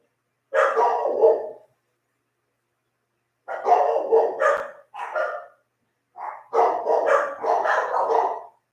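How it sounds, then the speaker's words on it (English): Big dogs, Kira or Nikki, bark in several bursts of rapid, overlapping woofs with silent gaps between them, loud and fairly close. "I don't know what they're barking at."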